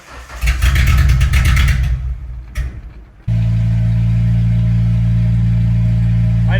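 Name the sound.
old yard car engine running and revving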